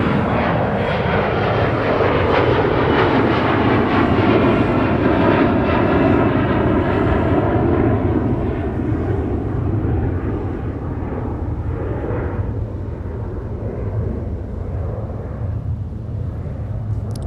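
Airliner departing Minneapolis–Saint Paul airport, headed to Newark, a powerful close jet roar with rumbling low end and whining tones that peaks early, then slowly fades as the aircraft climbs away.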